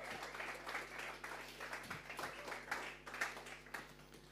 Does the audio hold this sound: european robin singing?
no